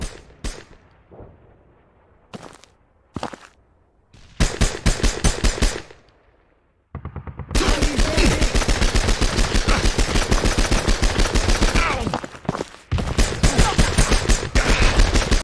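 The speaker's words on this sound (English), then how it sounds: "the sound design puts you right in the middle of battle" Dense World War II battle gunfire from a Nintendo Switch war game: scattered single shots and short bursts, then sustained rapid machine-gun fire with brief pauses, loud and close, with no voices.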